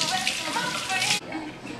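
A kitchen tap runs as salmon bites are washed, a loud close hiss of flowing water that cuts back sharply partway, with a voice talking over it.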